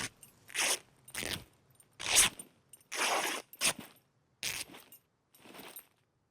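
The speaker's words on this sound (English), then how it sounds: "Cut it over with this kitchen knife." Cloth being cut into rags with a kitchen knife in the survival game SCUM: seven short, crisp ripping and crunching bursts separated by brief silences, close and fairly loud, with no talking.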